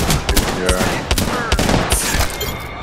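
Enemy gunfire in a video game, a dense burst of rapid shots crackling over a busy in-game soundscape, close and loud with little pause.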